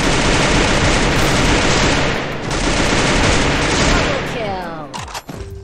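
Dense, loud gunfire in the mobile battle royale game Free Fire, a continuous fusillade of overlapping shots for several seconds that thins into scattered shots and ricochet-like tones at the end.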